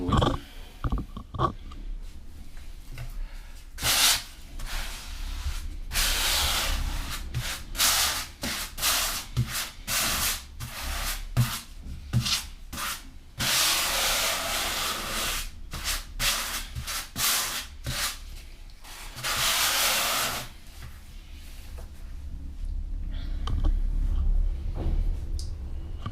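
A grout float rubs grout diagonally across the joints of indoor or outdoor floor tiles, making long, gritty scraping strokes that rise and fall in repeated bursts, close and loud, with short pauses between passes.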